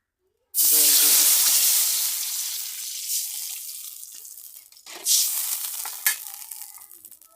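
Water poured into hot oil left over from frying eggplant erupts into a loud, sudden sizzle in a pan, then settles into a steady hiss with a few sharper spits and bursts.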